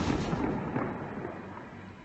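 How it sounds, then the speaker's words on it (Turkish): Dull, distant bursts of gunfire from armed clashes in Cizre crackle and thump irregularly, booming and muffled, like heavy shooting echoing from a few streets away. "Görüyorsunuz siz de silah seslerini duyuyorsunuz herhalde."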